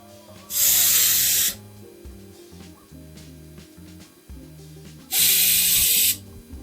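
Two separate bursts of aerosol spray can hiss, each lasting about a second, while bodywork is being prepared on a widebody STI panel gap, set against a low, steady workshop hum; no voices.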